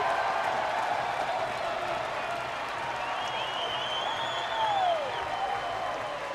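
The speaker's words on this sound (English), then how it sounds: "the crowd here at Haymarket Park absolutely loving it" A baseball crowd at Haymarket Park roars after a game-tying triple, a sustained broad cheer with scattered claps and whistles, swelling slightly near the end, with no talk over it.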